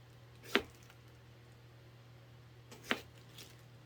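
A knife cuts through radish for braised hairtail, two sharp, quiet chops about two seconds apart against a low steady hum, with no talk.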